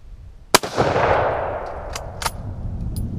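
A single loud Mosin-Nagant rifle shot is fired at a glass bottle outdoors, followed by a long rolling echo and a few faint clinks as the sound dies away.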